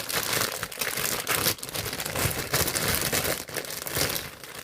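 Close, crisp crinkling as a sheet of white paper is crumpled, bursts of rustling crackle with brief pauses between squeezes.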